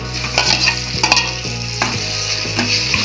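Tomatoes and salt sautéing in a pan of tempering for mutton kuzhambu, a steady close sizzle with intermittent scraping stirs and spoon knocks throughout, no voices.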